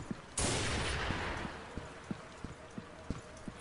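Gunfire in the video game Soldier of Fortune II, one loud shot with a long rolling decay followed by a string of sharp, evenly spaced pops at moderate distance, with no voices.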